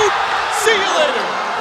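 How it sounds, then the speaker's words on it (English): Crowd cheering at a Trinity men's college basketball game after an alley-oop dunk, a steady loud roar of voices with whoops, and a commentator talking over it. "The crowd is loving this right now."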